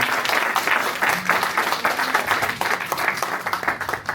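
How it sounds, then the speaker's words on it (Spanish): An audience at an award ceremony applauds a woman honored as a peace missionary, with lively, slightly uneven clapping sustained throughout at close range. "fuerte el aplauso para la dama que misionera de la paz"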